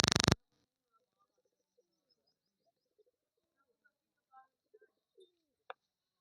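A short loud burst, then faint, scattered pigeon coos at irregular intervals against near silence.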